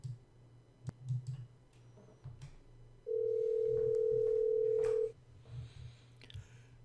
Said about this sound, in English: I'm going to place a call from my desk phone to an external party.